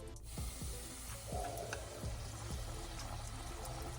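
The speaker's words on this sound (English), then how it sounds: "I'm gonna lay each one down before I let it fall right into the grease" Salmon tenders drop into hot grease and fry with a steady, close sizzle and crackle, with soft pouring and stirring sounds on top; no talking.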